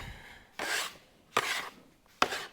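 Pie crust ingredients, including salt, are mixed on a cutting board, producing three separate rasping scrapes, each about half a second long, with quiet gaps between them.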